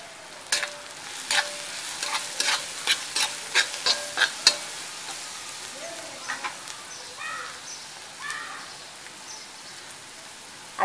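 Spices stirred and sautéed with salt, turmeric and garam masala in a pan for a Marathi kantola (spiny gourd) bhaji, with a steady soft sizzle under repeated spoon scrapes and clinks against the pan.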